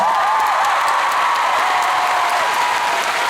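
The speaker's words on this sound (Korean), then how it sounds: "오늘 일요일 어제보다 더 열띤 환호성이 있을 것 같습니다" A concert crowd at a show in Busan cheers and applauds in a steady, dense wash of clapping and shouts, loud and continuous throughout with no talking over it.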